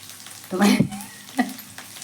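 Potatoes frying in hot oil give a steady sizzle, with stirring scrapes and bursts of louder crackle near the pan.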